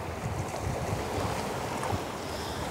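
Sea waves at a beach in Marche, Italy, give a steady washing rush mixed with wind buffeting the microphone, moderately loud and continuous with no talk.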